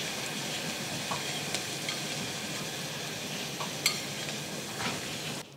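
Hot sesame oil poured over steamed fish with ginger and onion crackles in a steady close sizzle, with a few faint utensil clinks over it.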